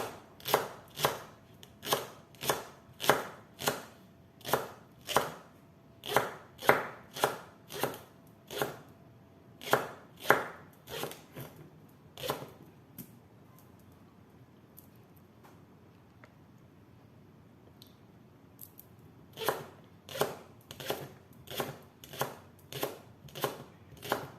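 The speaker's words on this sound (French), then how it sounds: "Pareil avec le deuxième, on coupe en rondelles." A knife chopping leeks into rounds on a board, a long run of crisp, evenly spaced close cuts, a quiet pause partway, then another quick series of chops, no voices.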